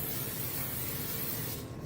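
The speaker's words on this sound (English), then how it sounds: "now I'm going to use a vegetable spray and coat the inside of my bowl that I used to mix up my" Vegetable oil cooking spray hisses from an aerosol can as it coats the inside of a mixing bowl, one continuous close spray that cuts off abruptly near the end, with no talk.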